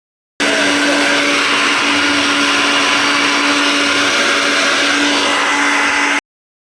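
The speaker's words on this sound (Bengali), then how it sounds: "যখন তুমি মিক্সার গ্রাইন্ডারে করবে, যেহেতু এটা গ্রেন্ড হবে" A mixer grinder blends spices with salt and sugar in a home kitchen, a loud, steady motor whine with a grinding roar that runs unbroken for about six seconds, then cuts off.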